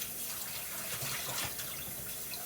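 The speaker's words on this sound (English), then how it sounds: "Now, turn this water off." Water running from a kitchen tap into a sink, a steady close splashing rush that holds an even level for the whole stretch with no voices.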